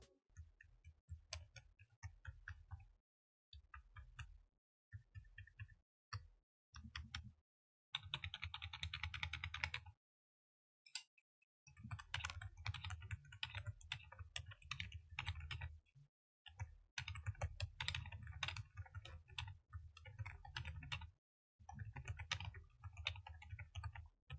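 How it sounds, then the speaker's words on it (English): Typing on a Redragon K729 Pro mechanical keyboard with pre-lubed Silent Peach switches, soft muted keystrokes in quick bursts separated by short pauses, close and quiet. "the custom Silent Peach switches, pre-lubed right out of the box for an incredibly quiet and smooth typing experience"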